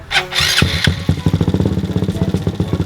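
A Honda Monkey motorcycle fitted with an added oil cooler starts up with a few sharp bursts, then settles into a close, loud idle with a quick, regular, thumping pulse.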